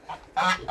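Goose on a farm honking, a short close call with a faint earlier note, loud and clear with no talking.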